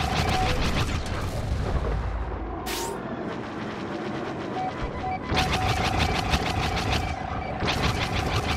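Blaster fire aimed at an Imperial shuttle in Star Wars Battlefront, rapid rhythmic bursts of shots in two main volleys over a steady mechanical hum, with a brief sharp whoosh between them.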